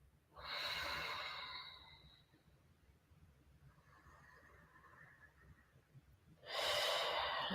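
Deep breaths in a breathwork exercise: a strong, close inhale, a long, softer exhale, then another forceful breath at the end, with no talking.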